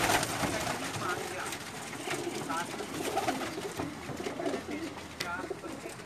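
Flying pigeons coo repeatedly in low, throaty calls amid a busy, noisy outdoor wash of sound that continues steadily throughout.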